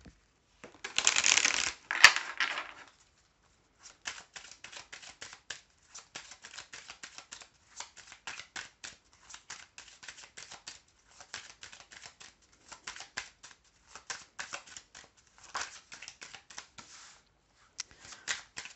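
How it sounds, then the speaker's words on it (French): Oracle cards being shuffled and drawn for a tarot reading: a loud burst of riffling near the start, then a long run of soft, irregular card flicks and slides close by, with no voices. "je vais prendre l'oracle G, donc 3 cartes de l'oracle G et 3 cartes du miroir bleu"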